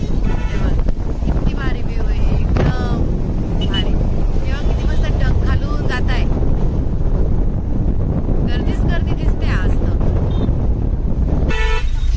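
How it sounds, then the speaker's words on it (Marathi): A busy road traffic jam near Nashik with repeated car horns honking, some long and some short, over constant engine rumble, wind noise and people talking nearby. "इथेच ट्रॅफिक जाम झालेली दिसते"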